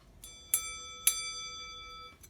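A vintage US Time Waterbury mechanical alarm clock bell struck in two or three sharp metallic dings, each ringing bright and sustained before decaying, close and alone in a quiet room.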